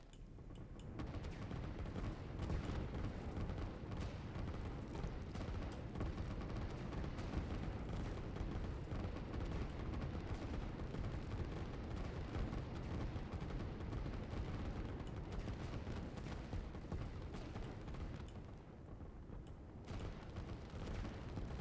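Dense, continuous barrage of rocket impacts and explosions in the strategy video game Line War, loud booms and crackling blasts piling over one another without a break.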